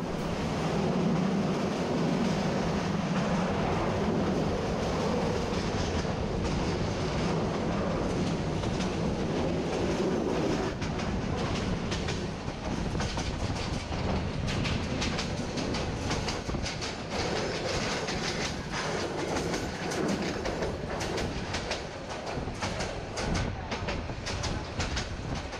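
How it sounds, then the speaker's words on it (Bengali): Jayantika Express train running on the tracks between Sylhet and Dhaka, heard from onboard as a steady loud rumble with rhythmic clickety-clack of wheels throughout, no voices. "মাঠের পরে মাঠ পাড়ি দিয়ে ছুটে চলছে ট্রেন।"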